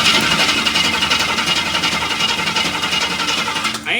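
A 1966 Cadillac Eldorado engine cranks over on the starter after carburetor work, a loud, continuous, rhythmic churning close by that cuts off just before the end.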